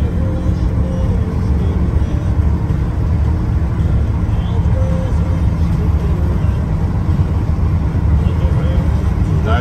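A 1981 Chevrolet C10 truck drives along a road, its engine a steady low rumble blended with road noise, heard continuously from inside the cab.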